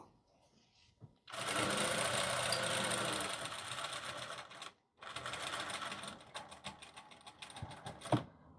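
A sewing machine stitches a Chanel-style jacket with a backstitch, two close, loud bursts of rapid mechanical whirring separated by a brief pause, then lighter clicks at the end.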